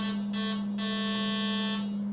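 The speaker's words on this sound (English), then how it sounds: "every second there's 220 lightning bolts coming out of our Tesla coil" A Tesla coil sparking at 220 hertz: a loud, steady electric buzz holds one low, even pitch without a break for about two seconds, harsh and crackling in its upper edge.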